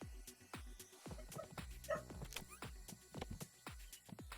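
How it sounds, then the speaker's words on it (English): A dog in the video game Staxel barks in a fast, steady series of short yips and woofs, fairly faint in the mix. "That dog is racist."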